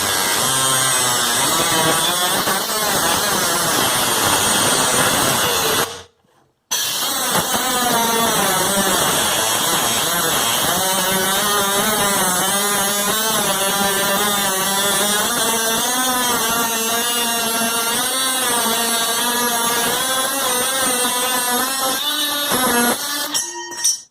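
Ryobi One+ cordless cutoff tool slicing through metal, a loud continuous high-pitched whine and grinding that runs nearly the whole time, with one brief cut-out before resuming steadily.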